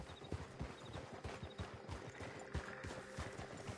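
Horses are ridden at a trot in Red Dead Redemption 2, making a steady, rhythmic clip-clop of hooves at moderate distance with faint tack jingles underneath.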